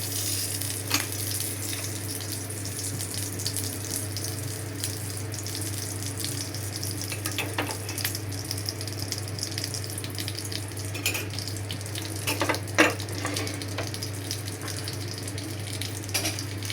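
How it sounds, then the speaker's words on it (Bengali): Semolina frying in ghee in a pan gives a steady, even sizzle that runs throughout, with a constant low hum underneath and a few faint scrapes. "এখন আমি ঘিটা দিয়ে দিতেছি, এই সুজিটা দিয়ে দিতেছি ভাজার জন্য"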